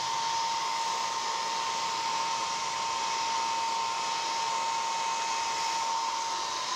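Hair dryer blowing steadily during hair setting, a constant loud whooshing roar with a thin motor whine running through it, uninterrupted for nearly seven seconds with no voices.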